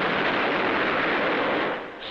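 WWII Navy planes bombing and strafing Tarawa produce a loud, dense wash of explosive roar and rumbling gunfire, continuous for a couple of seconds before easing slightly at the end.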